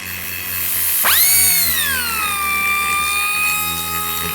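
A power sander running on wood pieces gives a steady whirring drone with a rising pitch sweep as it spins up, then holds a constant tone close by with no talk.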